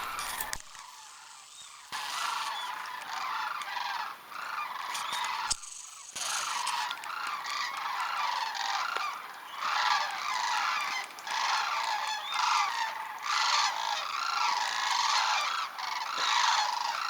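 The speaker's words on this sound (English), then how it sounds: "The migration of cranes. There were thousands and thousands of them." Thousands of migrating cranes call overhead along the Innoko River in Alaska, a dense, continuous chorus of trumpeting and honking from a huge flock, steady and loud for the whole stretch.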